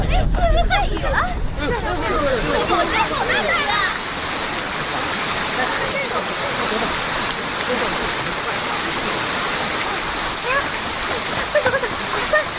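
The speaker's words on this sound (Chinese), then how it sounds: "下雨了！" Heavy rain pouring down as a steady dense hiss that continues throughout, with voices calling out over it at the start.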